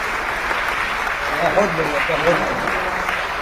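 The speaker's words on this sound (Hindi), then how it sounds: "जितनी तालियां बज रही सबकी" An audience claps during a nazm recitation about Palestine in London, with moderate, steady applause under a voice talking over it.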